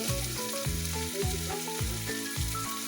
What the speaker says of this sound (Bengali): এবার হচ্ছে চিংড়ি মাছের শুটকি দিয়ে দিলাম আদা রসুন বাটার সাথে